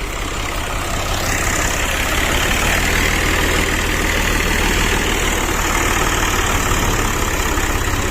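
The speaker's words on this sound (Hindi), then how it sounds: "ये तो माशाल्लाह ट्रैक्टर वाला आ गया है।" Tractor engine idles steadily on a farm plot, a loud continuous low rumble with a throbbing pulse that holds throughout without a break.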